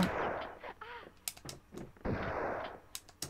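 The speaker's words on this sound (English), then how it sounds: "No, I'm shooting midair there." Shotgun blasts from the video game Tomb Raider II, several loud broadband bursts with short game sound effects in between, close and unaccompanied by talk.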